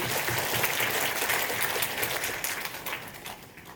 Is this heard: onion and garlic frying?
no